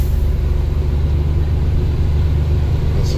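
A truck pulls slowly into an alleyway in rain, its engine a loud, steady low rumble throughout with no other distinct sounds.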